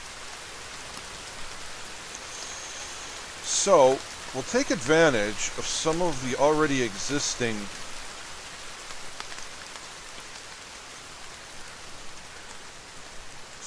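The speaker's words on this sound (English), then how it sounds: "it appears it's going to rain" Steady rain falls in the survival video game The Forest, a constant hiss of drops on surfaces running the whole time, with someone talking briefly over it near the start.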